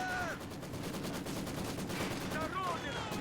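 Machine gun fire in Company of Heroes 2, from a gunner shooting out of a small window during an all-out battle with Soviet troops, rattles steadily under the noise of the fight, with someone speaking.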